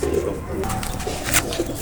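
Teddy-breed pigeons coo softly in a few low, throaty calls, with faint background noise between them.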